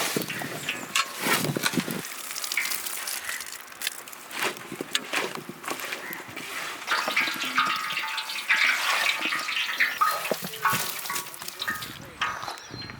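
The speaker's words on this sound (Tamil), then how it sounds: "அடுத்து வாட்டர் இதில் கொஞ்சம் ஊற்றி நம்ம மிக்ஸ் பண்ணிடலாம்" Water poured into mushroom 65 batter and stirred in a bowl, a steady wet splashing and mixing that runs close and continuous for several seconds.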